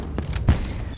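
Short bursts of gunfire in Call of Duty: Black Ops Cold War, a few quick sharp shots in close succession within about a second, fairly loud against game ambience.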